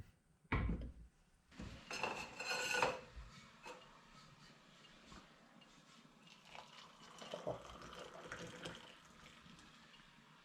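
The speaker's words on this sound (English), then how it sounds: "I worked out how to get some water out of the rain butt" Water drawn from a rain butt at an old Dartmoor farmhouse, with sharp knocks and clunks of handling followed by trickling and splashing, faint and quiet against a still background.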